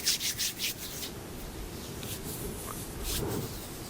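Hands rubbing together during a seated meditation session, a soft, steady dry friction that is brisk and rhythmic at first, then continues as an even, close rustle with no talking.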